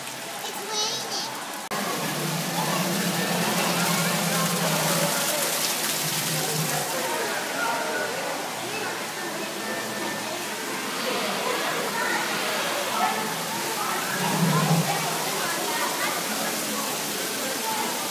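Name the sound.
simulated rain shower inside the Rainforest Cafe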